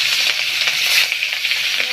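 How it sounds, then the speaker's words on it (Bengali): Fish, likely hilsa, frying in a pan gives a steady, dense sizzle and hiss close up, with faint crackles and no talking. "এদিকে মাছটা আমি ভাজা বসিয়ে দিয়েছি দেখো হালকা করে দুই পিট ভেজে নেবো"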